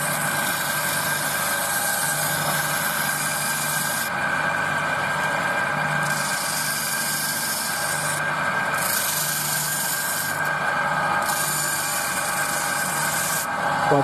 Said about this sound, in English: now we're going to take this round and we're going to sand this so it goes at the right angle